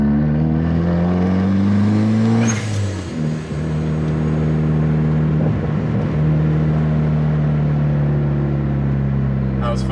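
A turbocharged Honda Accord driving a lap on a track at a Honda festival: a loud, close engine drone rises in pitch, drops briefly as the car shifts, then holds a steady cruising hum.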